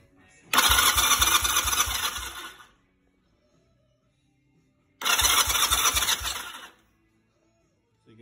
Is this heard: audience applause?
no